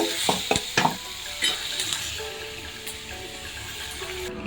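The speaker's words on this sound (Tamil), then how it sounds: "காஞ்ச மிளகா வெங்காயம் தக்காளி நல்லா பச்சை வாசனை போகிற அளவுக்கு வதக்கிக்கோங்க" Dried red chillies, onion and tomato frying in hot oil, a steady close sizzle with several quick scraping stirs and clanks of a spatula on the pan early on, then a softer continuous hiss.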